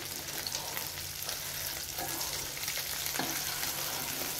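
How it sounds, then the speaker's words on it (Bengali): Pieces of fish fry in a pan of hot oil, giving a steady, dense sizzle with faint crackles and a few light stirring knocks, close and uninterrupted by talk. "এখানে মাছগুলো ভেজে নিচ্ছি।"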